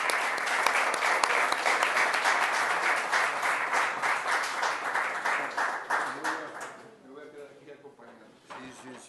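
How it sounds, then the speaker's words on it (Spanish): An audience at a Camino de Santiago congress gives a warm round of applause, dense clapping that holds strong and then thins out and fades, with a voice beginning to speak near the end. "A él le damos un aplauso"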